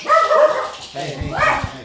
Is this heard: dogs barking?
yes